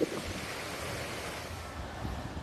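Typhoon winds drive waves against coastal rocks and a breakwater, a steady roaring wash of surf and wind noise with no voices.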